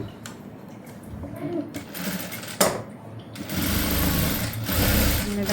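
A sewing machine stitches along the piping of a prince cut blouse, close and fairly loud, with a quieter stretch and a sharp knock midway before a steady, stronger run of motor whirring.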